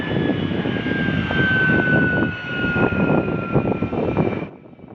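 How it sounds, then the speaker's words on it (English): Low pass of an F-35 fighter jet, a loud, close rumbling roar with a falling whine that holds strong before cutting off sharply near the end. "This F-35 passing by low."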